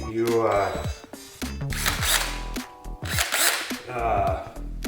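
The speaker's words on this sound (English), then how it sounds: "pre-drill a couple holes, toenail-in up through the bottom" A power drill pre-drilling screw holes in wood, several whirring bursts that rise and fall in pitch as the motor spins up and slows, loud and close, separated by short pauses.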